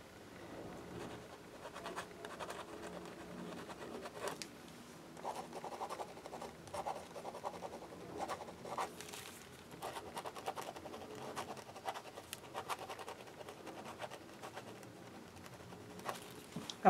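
A pen scratches steadily across a journal page, a close, soft, continuous scribble with brief lifts and taps between words and strokes, quiet throughout.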